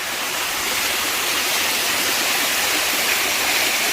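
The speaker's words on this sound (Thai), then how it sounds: "นี่คือน้ำตก เคชิช นะคะ" A steady, loud roar of falling water fills the clip without a break, broadband and constant like a nearby waterfall in a desert.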